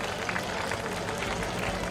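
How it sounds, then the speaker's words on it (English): Audience at an annual day celebration clapping in a large crowd, a dense, continuous roar of applause that stays loud throughout, with some crowd voices mixed in. "Give them a big round of applause."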